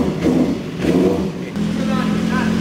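A motorcycle engine starts and revs in repeated surges, loud and close, with voices talking over the engine noise.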